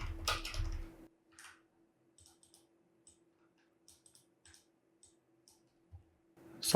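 Computer mouse clicks in the Unreal Engine 5 editor, a sparse series of small, sharp, close clicks spaced irregularly over a quiet hum, with a louder thump at the start and end.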